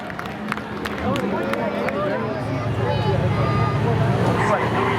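Spectators at a Seekonk Speedway drag race finale applaud and cheer, a steady wash of clapping and crowd noise under a race announcer's continuous commentary.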